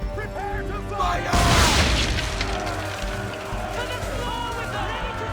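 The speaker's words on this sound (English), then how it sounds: "Now give the swivel guns a turn. More precise. Hit those old powder barrels and light up the sky." Swivel gun shots strike powder barrels in Assassin's Creed III, setting off a loud, deep booming explosion with a rumbling tail, set against a steady background of game music and ambience.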